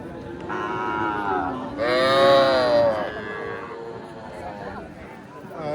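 Calves at a cattle market give two long, loud moos, the second fuller and rising, over a background of crowd noise and people talking.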